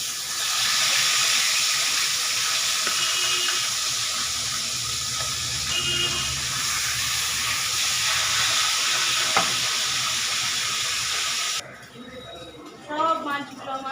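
Tilapia pieces frying in oil in a home kitchen, a loud, steady sizzle with occasional sharp ticks that cuts off near the end, where a voice speaks over a quieter background.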